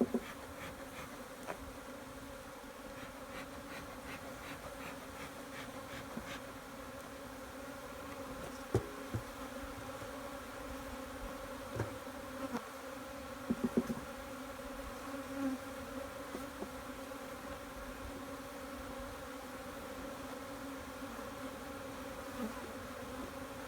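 Honey bees buzz in an opened nucleus hive, a close, steady drone-like hum that holds for the whole stretch, with a few faint clicks and knocks and no talking.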